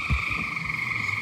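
Frogs croak in a steady, dense chorus from a backyard pool, a continuous high trill over occasional low throaty croaks, moderately loud and close with no talking.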